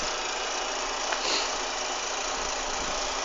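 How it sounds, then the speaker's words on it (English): A cold Renault Megane 1.6 engine idles under the open bonnet with a steady, quiet hiss and even mechanical hum, unchanging throughout. "Here's the engine."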